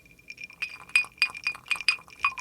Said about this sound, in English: the sound of the ice cube rolling around in what I imagined was a glass of adult beverage